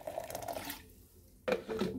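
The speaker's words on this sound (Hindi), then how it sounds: "अब हम इसमें डाल देते हैं ठंडा पानी 2 ग्लास" Two glasses of cold water poured into blended mint paste in a kitchen, a soft splashing pour that fades, then a second louder splash near the end, close and fairly quiet.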